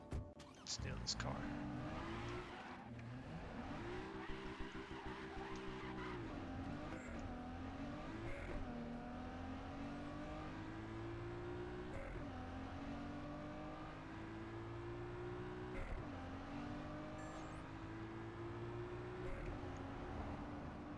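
A car in the video game Cyberpunk 2077 drives and revs steadily, its engine pitch rising and falling through repeated gear shifts, loud and continuous with faint tire noise.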